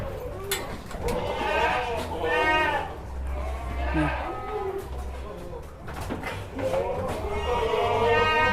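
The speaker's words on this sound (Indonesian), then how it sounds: "Nih guys, kambing-kambing Etawa" Etawa goats bleat repeatedly in wavering, nasal cries, several animals overlapping close by at a livestock farm, with a steady low hum of a pen or barn underneath.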